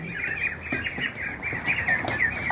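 One-month-old laying ducklings kept on a small farm, a busy chorus of overlapping quacks and squawks close by, rising and falling without pause.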